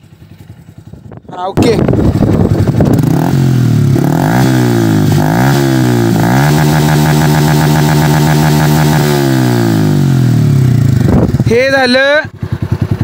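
A Honda SP 125 BS6 motorcycle fitted with an Akrapovic exhaust starts and idles steadily up close, with a few revs, and someone speaks briefly at the start and the end.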